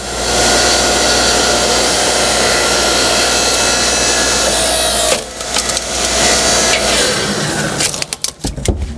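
A KRAFT 7-tonne 2300 W electro-hydraulic log splitter works a piece of wood, its loud steady motor hum running alone, then easing off into a series of sharp cracking and splintering snaps near the end.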